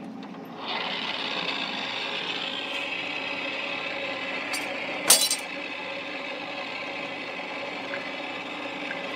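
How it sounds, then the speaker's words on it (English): A lathe faces off a rough bandsaw-cut billet cap, its steady motor whine and cutting hum running throughout after a quiet start, with a sharp metallic clink about halfway through. "the next thing we're going to do is face this off. Definitely needs to be faced off. It's rough. It's a bandsaw cut."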